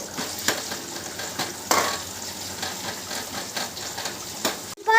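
Whole spices tempering in hot oil in a pan for prawn curry give a steady crackling sizzle, broken by sharp clinks and scrapes of a stirring utensil against the vessel, close and fairly loud.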